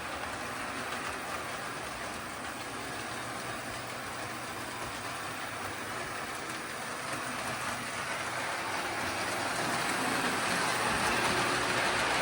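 A 72-year-old model train engine pulling nine cars runs with a continuous whirring, rattling rumble that grows slightly louder toward the end, with no talking.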